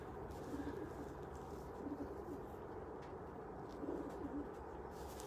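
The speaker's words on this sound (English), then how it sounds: "Today screams this pigeon." Racing pigeons in a loft during basketing for an 80-mile sprint race, giving soft, low repeated coos at a steady distance over a constant murmur of background noise.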